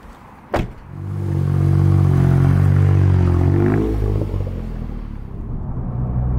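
A door thuds shut and a Toyota GR Yaris engine then starts and drones steadily, rising into a strong low rumble before easing off as the car pulls away, close and clear with no talking.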